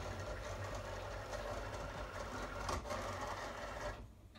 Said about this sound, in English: We'll slide it in the Cricut and we'll hit load.